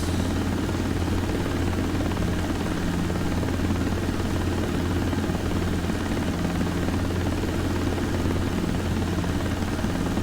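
A steady, loud helicopter rotor and engine drone from a desktop flight simulator game holds constant throughout, with no variation or other sounds.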